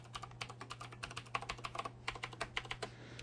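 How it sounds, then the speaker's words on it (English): Fingers type a password on a computer keyboard at a Linux Mint login screen, a quick uneven run of light plastic key clicks, close and fairly quiet over a low steady hum, with no talking. "Type in my password."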